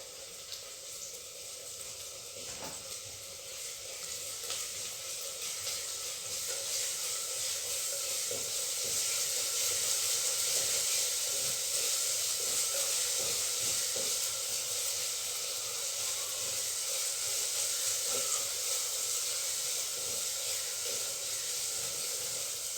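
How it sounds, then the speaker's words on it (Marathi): Sliced onion and garlic-ginger paste frying in a pan for a bhaji of umbar (cluster fig) fruit, a loud continuous sizzle and hiss with faint scattered clicks, no speech. "याच्यात आता आपण लसूण आल्याची पेस्ट टाकू थोडीशी"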